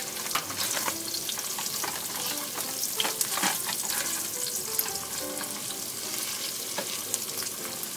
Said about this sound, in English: So our pork is turning to be brown, and we start our sauteing